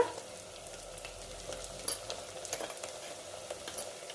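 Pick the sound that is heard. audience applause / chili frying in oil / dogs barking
chili frying in oil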